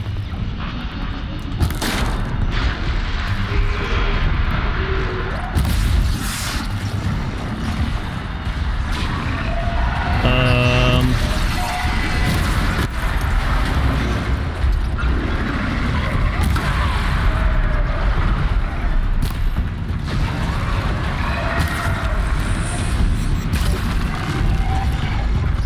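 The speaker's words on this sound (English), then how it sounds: "I don't like that bellowback is coming towards me" A Bellowback machine creature in Horizon Zero Dawn approaches and attacks amid loud, continuous rumbling, booms and mechanical crashes, with a brief tonal chime partway through and a player talking intermittently over the din.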